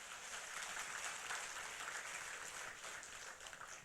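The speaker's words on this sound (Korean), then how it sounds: "우리 하나님께 박수를 영광 돌립니다." Congregation applauding during a Friday worship service at a Korean church, a steady, dense wash of clapping from many hands, moderately distant and sustained throughout without any speech.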